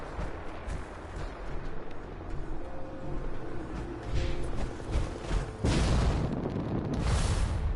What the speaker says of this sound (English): it creates an explosion.